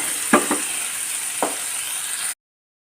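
Tomatoes, onions and green chillies sauté in a pan for an okra and curd curry, a steady close sizzle broken by a few scraping stirs of a spoon before it cuts off abruptly.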